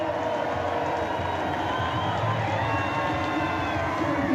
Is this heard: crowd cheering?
yes